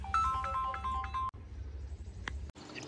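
A mobile phone plays a repeating melodic ringtone for an incoming call, a bright tune of short notes that cuts off abruptly, followed by quiet handling clicks.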